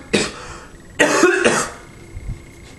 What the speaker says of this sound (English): I have a ticklish throat. I might just be coughing a lot.